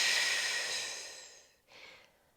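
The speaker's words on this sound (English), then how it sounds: "Exhale through the mouth." A long, steady breath pushed out through the mouth during pregnancy yoga, a soft airy hiss lasting about a second and a half, then a brief fainter breath after a short pause.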